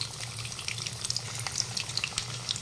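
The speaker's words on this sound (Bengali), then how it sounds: "আলুগুলো আমি ভালোভাবে ভেজে নেব।" Potato pieces frying in mustard oil with salt and turmeric in a pan, a steady close sizzle with scattered crackling pops throughout and no one talking.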